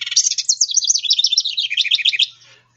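A winter wren sings a loud, close, continuous song of rapid high trills and chattering notes for about two seconds, then stops.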